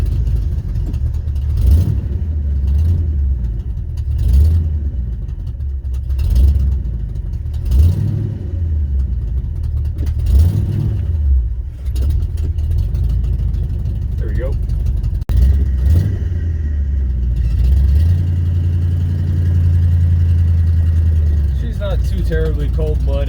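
A 1971 Ford F250 highboy truck engine idles low and rumbling with the choke pulled out, its fast idle surging in a slow rhythm, close by, while someone talks over it.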